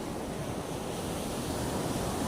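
Sea waves rolling onto a dirty shoreline, a dense continuous roar of surf mixed with wind buffeting the microphone, loud and unbroken throughout.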